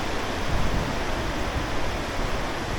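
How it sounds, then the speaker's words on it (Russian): The Gorelnik mountain river rushes steadily at a crossing point, a broad continuous roar of churning water, close and loud with no break. "теперь будем переправляться через речку Горельник"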